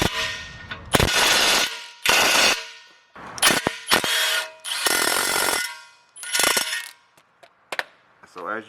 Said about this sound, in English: all I'm going to do is take my impact gun